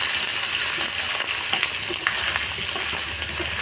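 Mustard paste is stirred into a hilsa fish dish in a hot pan, a loud continuous sizzle with scraping of the spatula running throughout, no voices.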